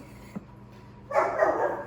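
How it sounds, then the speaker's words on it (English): A dog barks in a short burst of several loud, close yaps after a brief quiet moment with a faint knock. "my dog is barking at strangers"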